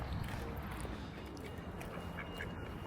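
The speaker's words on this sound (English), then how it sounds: "Pigeons and a duck." A duck quacks on College Green, a city square in Bristol, amid steady outdoor ambience with pigeons nearby; the calls are modest and mixed into continuous background noise.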